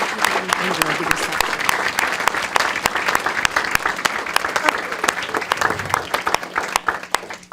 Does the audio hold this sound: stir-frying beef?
no